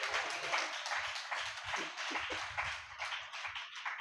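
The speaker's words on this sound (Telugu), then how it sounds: "చప్పట్లు కొట్టండి గట్టిగా" A church congregation at a Telugu sermon claps in a brisk, rapid patter that runs steadily throughout, fairly faint and distant, with no speech over it.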